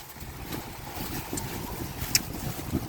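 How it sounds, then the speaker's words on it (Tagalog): Steady blustery wind buffeting the microphone, a constant low rumble with gusty swells and a couple of sharper thumps, no voices. "Ang ganda ng panahon pero grabe ang hangin naman."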